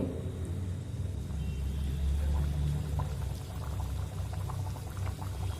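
Rolled dal puris frying in oil over a medium flame give a steady, low bubbling roar that swells briefly, close and constant without talk.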